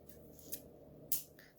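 Scissors cut through beading cord, giving two faint, sharp snips about half a second apart against a quiet room background.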